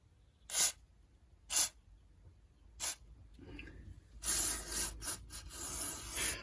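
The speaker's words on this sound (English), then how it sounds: "I'm just going to blast some carb spray through there" Short hissing bursts of carburettor cleaner spray blasted through a Pierburg 1B carburettor from a 1988 Volkswagen Polo, a few quick blasts then a longer sputtering spray, close up with no talking.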